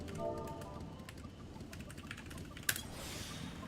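Light typing on a computer keyboard, a soft scattered patter of keystrokes with one sharper click near the end, quiet against a faint background.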